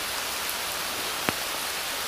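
Steady rain falls on an overcast day of fly fishing for salmon at Lake Ontario, a soft, even hiss throughout with one brief sharp tap near the middle, no talking.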